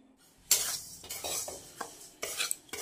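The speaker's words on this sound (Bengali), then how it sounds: "সুজিটাকে একটু ভালো করে ভেজে নিচ্ছি" Semolina roasting in a pan while a spoon stirs it, with close, intermittent scraping strokes and light clatter between quiet pauses. No one speaks.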